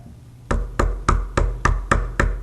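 A door is knocked on with seven evenly spaced, firm raps in a steady rhythm, close and clear against a quiet background.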